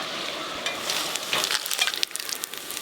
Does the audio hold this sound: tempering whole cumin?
yes